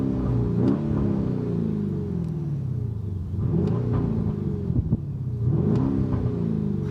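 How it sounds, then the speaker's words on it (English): A 2024 Lamborghini Urus S engine revs up and falls back repeatedly in three or four deep, rumbling swells, loud and close, with no speech over it. "How do you guys like the sound of the new Lamborghini Urus S?"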